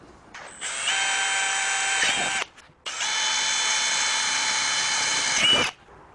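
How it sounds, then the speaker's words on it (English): A power drill whines loudly in two bursts with a brief pause between, its high motor tone steady as it bores holes through plastic. "So let's drill a couple holes right here."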